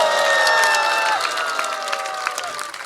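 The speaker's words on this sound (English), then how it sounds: "Give him a big round of applause." An audience claps for a dancer at a spiritual class, scattered applause blending with sustained musical tones that slide downward, steady and moderately loud throughout.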